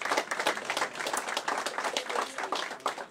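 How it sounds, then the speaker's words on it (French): A crowd at an evening political gathering applauds, many individual claps audible in an uneven, moderately loud burst that carries on steadily without speech. "Donc je voudrais ce soir ici qu'on puisse les applaudir et leur rendre hommage"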